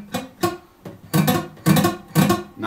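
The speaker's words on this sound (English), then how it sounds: "So if I do that and just pluck those 4 strings," A guitar's four strings, muted under a relaxed fingertip, are plucked in a steady rhythm of short percussive chunks, six or so close, dry hits with little ringing pitch.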